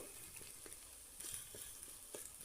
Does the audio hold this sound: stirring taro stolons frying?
yes